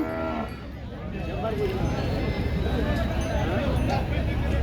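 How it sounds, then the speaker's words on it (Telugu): Cattle low amid a busy market din at the Devarakadra cow market, with people talking nearby over constant background bustle. "మీరు చూస్తున్నది దేవరకద్ర ఆవుల సంత"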